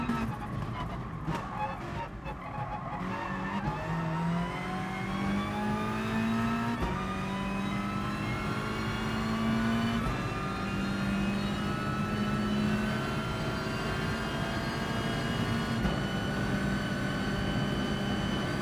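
In Gran Turismo Sport, a front-wheel-drive Volkswagen Scirocco race car's engine whines and revs, rising in pitch through repeated gear changes, with a sustained mechanical drone and faint game sounds beneath.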